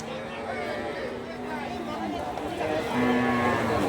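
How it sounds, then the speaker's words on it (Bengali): Cattle low and moo amid a busy outdoor cattle market crowd, with people talking throughout. "এগুলা খামার উপযোগী গরু"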